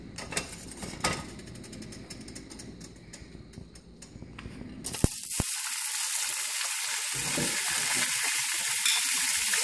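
Oil poured into a hot wok for shrimp with satay garlic sauce, faint clatter giving way after a sharp hit to a loud, steady, hissing sizzle that fills the rest.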